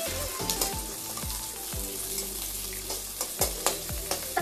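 Sliced onions sautéing with salt in a pan, a close crackling sizzle broken by repeated scraping strokes of a spoon against the pan, several quick stirs in a row, no talking.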